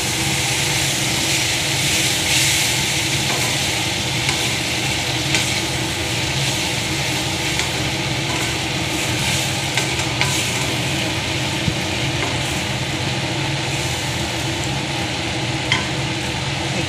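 Semolina in water coming to a boil in a pot on a gas stove, with a constant bubbling, roiling hiss and flame roar, steady and close throughout with small crackles on top.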